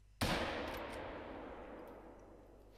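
A single hunting rifle shot in the hunting game theHunter: Call of the Wild, a sharp loud crack that rolls into a long fading echo, with nothing else heard.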